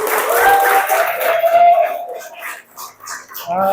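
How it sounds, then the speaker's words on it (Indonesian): Steady crowd applause that swells, then thins into scattered claps and breaks off, with some voices chattering underneath. "Tepuk tangan buat Cecil yuk."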